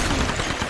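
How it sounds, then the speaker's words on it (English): Dense gunfire in the Tomb Raider video game, a continuous loud burst of rapid shots with no gaps, heard very briefly. "Who's shooting?"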